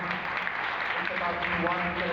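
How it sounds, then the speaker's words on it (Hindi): A church congregation at a Christmas program applauds, a quiet, steady patter of clapping heard from a distance with some murmured voices mixed in. "एक दफ़ा कलीसिया के जो लोग हैं ताली बजाएं"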